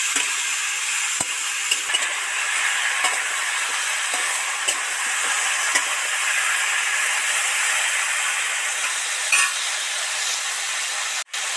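Poppy seed paste sizzling steadily as it is sautéed in a pan, a continuous close hiss with a few faint scrapes of stirring.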